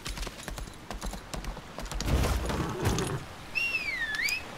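Rhythmic horse hoofbeats from the video game Lost Ark clatter at a steady pace, with a brief whistling birdlike tone near the end over a busy background.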